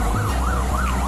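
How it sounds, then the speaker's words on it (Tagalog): An ambulance siren wails on a street, loud and near, its rising and falling tone cycling steadily over a rumble of traffic. "May ambulance. Oh my God. Nakaagang ambulance."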